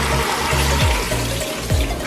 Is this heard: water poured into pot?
yes